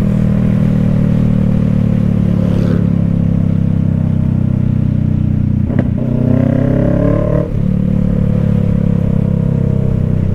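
Motorcycles ride along a crowded road in Barangay May Iba, Teresa, near the Pililla windmills in Rizal, their engines forming a loud continuous drone with a few sharper passes and clatter.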